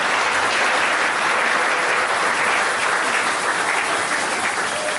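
A church congregation applauding, dense continuous clapping from many hands filling the room at a loud, even level for the whole stretch.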